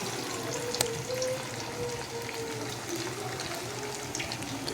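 Fish frying in hot oil, a steady bubbling sizzle with a faint watery hiss that runs on continuously at moderate level, with no voices over it.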